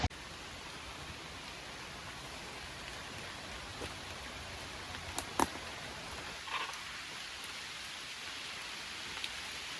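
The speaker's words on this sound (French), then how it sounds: "En vrai, il pleut pas mal." Steady rain falls and patters on surfaces nearby during a hike, a constant hiss with occasional sharper drips and taps.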